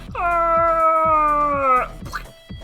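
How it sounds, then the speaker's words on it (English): A cat meows in the NIGHT/SHADE video game, giving one long, loud, drawn-out yowl up close, followed by a shorter, fainter cry. "Cat's acting bonkers."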